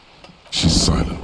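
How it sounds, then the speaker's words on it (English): A short, loud gust of wind whooshes against a sail in Disco Elysium, rising abruptly from near quiet into a broad, rough rushing flap that holds for under a second. "The wind flaps the sail above her."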